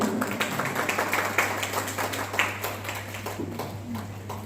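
Applause from a school audience honouring the principal at an Independence Day celebration: dense, steady clapping from many hands that lasts throughout, with a low hum underneath.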